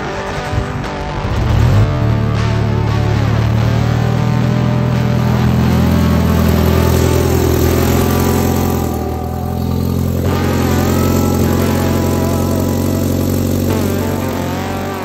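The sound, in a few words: car engine revving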